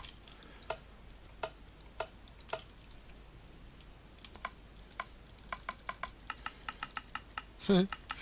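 Computer mouse clicks during Minecraft modded play, sharp light ticks coming one at a time and then in quicker runs, quiet and close, with one louder click near the end.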